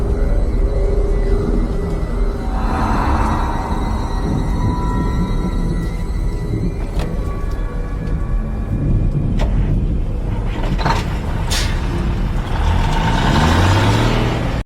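Garbage truck in the video game Manhunt 2, a steady loud engine rumble with mechanical clanks and hisses throughout, continuous and close, without talk.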